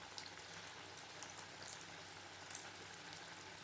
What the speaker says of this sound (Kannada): ಎಣ್ಣೆ ಕಾದಿದೆ, ಇದು ಸುಮ್ಮನೆ ಹೀಗೆ ಎಣ್ಣೆಗೆ ಬಿಡಿ